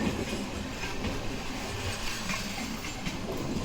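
Ratnachal SuperFast Express 12717 pulling into platform 2 at Nidadavolu station: a steady, loud rolling rumble of coaches and wheels on rail, with faint rhythmic clatter running throughout.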